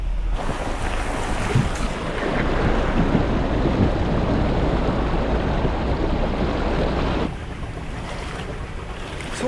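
A forest river's rushing water roars steadily in a broad, noisy wash, blended with wind buffeting the microphone, with no voices.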